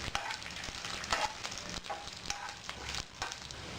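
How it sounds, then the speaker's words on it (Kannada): Garlic with dried red chillies fries in a pan for a beetroot chutney, giving a soft, steady sizzle with occasional louder crackles and stirring scrapes, close and without voices. "ಬೆಳ್ಳುಳ್ಳಿ, ಇದು ಸ್ವಲ್ಪ ಫ್ರೈ ಆಗಲಿ."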